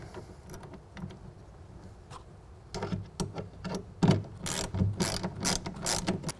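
A ratchet with a half-inch socket tightens the strap assembly of a BAK Revolver X2 tonneau cover on a 2016 Toyota Tacoma, quiet at first, then loud, close clicking strokes in quick repeated bursts.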